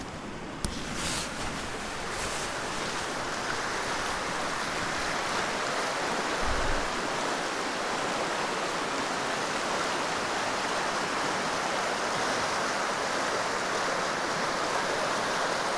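The River Feshie in Glen Feshie, Scotland, swollen after rain, rushes in a loud, steady, broadband roar that stays unbroken and close for the whole stretch, with no voices.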